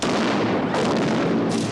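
Charges fired from a warship at sea, a dense burst of loud booming blasts and crackling reports packed close together, with two sharper hits standing out near the start and end of the short clip.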